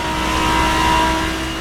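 A Lamborghini V10 engine in the racing simulator Assetto Corsa, held at high revs on a fast straight: a loud continuous engine roar with a steady tonal whine, near and unbroken throughout, with no talk.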